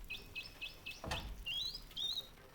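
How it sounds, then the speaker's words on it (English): A mechanical bird in the video game Ad Infinitum gives a run of quick, evenly spaced high chirps, then a dull thump and a few longer rising twitters, clear and close. "Damn, that mechanical bird is pretty cool,"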